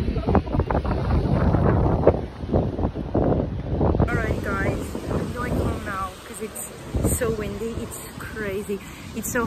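Strong wind buffets the microphone in heavy low rumbling gusts outdoors at Lisbon Fashion Week, with a person talking over it throughout.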